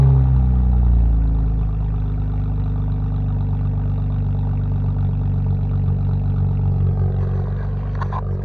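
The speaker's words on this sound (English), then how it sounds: "Such a great idle." A car engine idling up close, a smooth, deep, steady rumble that stays even throughout with no revving.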